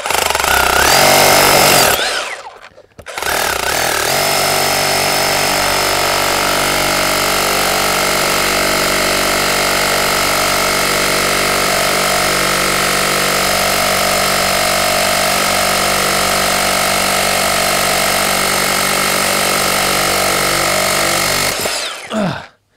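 A Bosch 18V34CF cordless rotary hammer chisels stone in a loud, continuous hammering rattle that runs for about twenty seconds after a short first burst and a brief pause.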